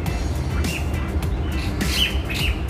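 Birds in Hong Kong Park give a few faint, high squawks and chirps over a constant low hum of city traffic.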